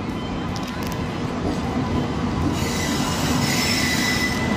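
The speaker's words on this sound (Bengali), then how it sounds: "ট্রেন এখন ঢুকে গেছে" The Coromandel Express rolls into a station, its wheels squealing loudly against the rails over a continuous heavy rumble of railcars that grows brighter toward the end.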